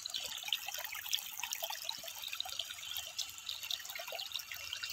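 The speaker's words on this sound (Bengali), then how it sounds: "আমাদের জল দেওয়া শুরু করে দিয়েছে, বন্যা বহিয়া যাচ্ছে" Irrigation water flowing into a potato field makes a steady, close rushing and trickling wash that runs unbroken throughout, with no voices.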